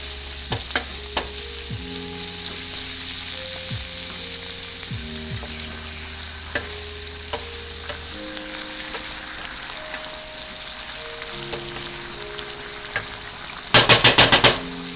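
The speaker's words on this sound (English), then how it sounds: "Let that alcohol fry off." Red wine poured into meatball sauce for Italian spaghetti and meatballs fries off its alcohol in a pan, giving a loud steady sizzle with stirring clatter, ending in a brief sharp burst of louder spitting.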